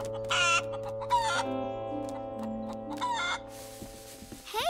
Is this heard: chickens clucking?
yes